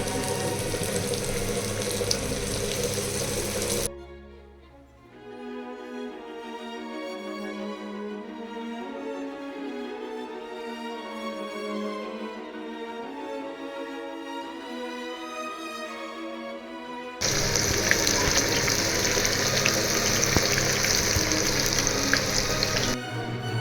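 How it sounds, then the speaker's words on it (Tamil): Chicken strips deep frying in oil, a steady, dense sizzle that drops to a quieter bubbling stretch with a faint tonal hum before the loud hiss returns. No one speaks. "இப்போ நம்ம ஸ்டிப்ஸை ஆயிலில் ஃப்ரை பண்ணிக்கலாம்"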